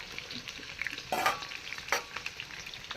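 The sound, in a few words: frying potatoes and onions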